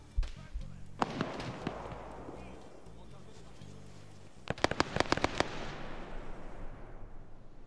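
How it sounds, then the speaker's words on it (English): Video game artillery barrage booming, with scattered heavy blasts early on, then a tight burst of sharp, rapid explosions in quick succession before the rumble fades; a voice speaks intermittently underneath. "That was the artillery."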